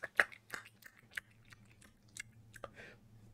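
A person imitating loud, exaggerated chewing with wet smacks and crunchy bites, close and irregular, with a faint hum underneath and no words.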